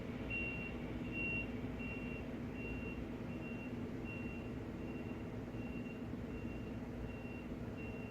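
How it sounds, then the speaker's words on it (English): A garbage truck's reversing alarm beeps in a steady, evenly spaced rhythm, faint and distant outside an apartment, over a constant low engine rumble. "I assume that's the garbage truck,"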